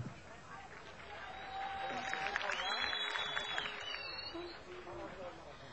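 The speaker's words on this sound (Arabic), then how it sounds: "تشجيع شباب تصفيق." A crowd of young men cheers and claps at a festive religious celebration, a dense, fairly faint wash of applause and voices with no clear speech.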